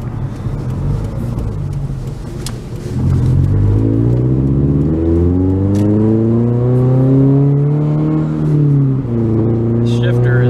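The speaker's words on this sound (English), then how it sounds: "Nice exhaust note." A 2017 Subaru BRZ Limited Performance Package with 6-speed manual revs up hard, its exhaust note rising and falling in pitch through several gear changes, loud and close throughout.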